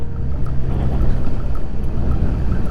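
A steady, low four-cylinder 1000cc motorcycle engine drone hums continuously while riding, with wind rushing over it as the machine keeps moving at an even pace.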